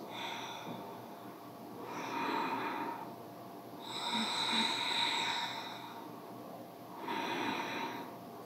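Three slow, deep breaths are heard during a yoga session for the shoulders. Each is a long, airy inhale or exhale, close and soft, with even pauses between them and no talking.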